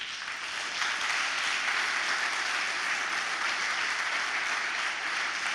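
Sustained applause from a church congregation fills the space, a dense, steady wash of clapping at even loudness throughout with no speech over it.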